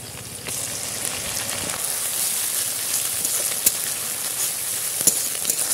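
Onion paste frying in oil for Bengali katla fish kalia: steady oily sizzling with scattered crackles and soft pops, close by and moderately loud, with no talking.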